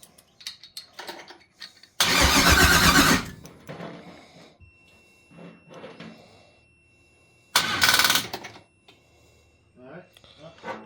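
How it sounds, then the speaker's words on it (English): Twin-turbo LS-swapped Chevrolet S10 engine cranking over on a jump pack, first time with fresh oil, in two loud bursts of starter churning, each about a second long, with people talking between them. "It's going to take a little bit of cranking over to find that oil."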